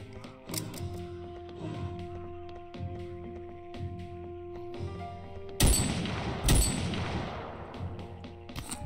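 Two loud gunshot blasts from weapons in the stealth game Of Murder and Moonshine ring out over a steady musical background, each followed by a brief decaying rumble.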